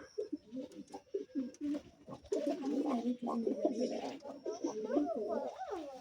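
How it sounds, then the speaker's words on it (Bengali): Pigeons coo inside their coop, a close, soft, rolling murmur of overlapping calls that swells after the first couple of seconds and continues throughout. "এখানে সব কবুতরগুলো কূপের ভিতরে ঢুকে আছে"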